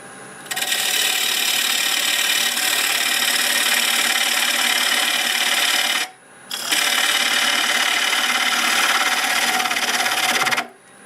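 Wood lathe at about 1,000 RPM turning knotty pear wood with a 1/2-inch bowl gouge, a loud steady scraping hiss of the cut that runs unbroken, stops briefly, then resumes before stopping again.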